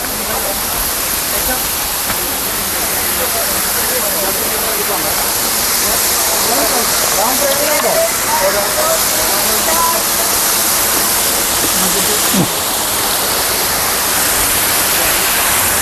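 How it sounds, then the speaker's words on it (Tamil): A waterfall in Munnar roars in a loud, unbroken rush of water heard up close, a dense steady wash that never lets up. "அருவியின் அழகான தோற்றம் அருகிலிருந்து எடுத்துக்கொண்டிருக்கிறோம்."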